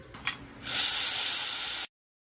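A ratchet wrench snugs up timing chain bolts on a 2013 L405 Range Rover Supercharged engine, a few quick clicks followed by one loud, rapid, sustained ratcheting run that stops abruptly.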